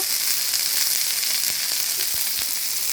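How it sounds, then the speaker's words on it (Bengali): Mixed vegetables sizzle and hiss in hot oil in a pan while being fried for vegetable noodles, a steady close crackle with a few soft stirring clicks and no talking. "এখন পুরো সবজিটা আমি সুন্দর করে তেলে সুন্দর করে ভেজে নেব।"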